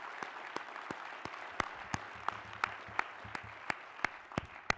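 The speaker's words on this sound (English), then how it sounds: "Let's give them a round of applause." An audience at a corporate closing session gives a round of applause, with sharp individual claps standing out over a dense, moderately faint clatter of clapping that continues steadily.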